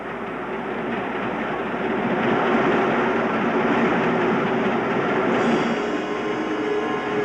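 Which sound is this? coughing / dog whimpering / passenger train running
passenger train running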